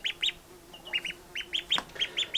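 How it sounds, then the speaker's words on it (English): A tame Muscovy duck on a farm gives a rapid series of short, nasal, squeaky calls, close and fairly loud, with brief gaps between them. "we're pretty sure at this point he's a Muscovy duck"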